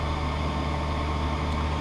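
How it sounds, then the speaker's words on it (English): Lens edging machine grinding a polycarbonate eyeglass lens, a steady, dense whirring and hissing grind with a low hum underneath, close and continuous. "The second sound you hear will be the grinding of the lens."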